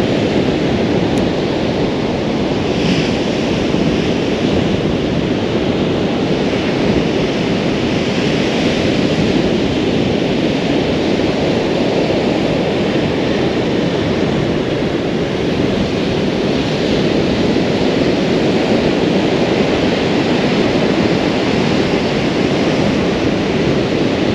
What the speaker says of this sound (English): There's quite a bit of wind now getting up, it's about 20 mile an hour